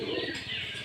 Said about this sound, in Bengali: এই পায়রা হচ্ছে ম্যাড্রাস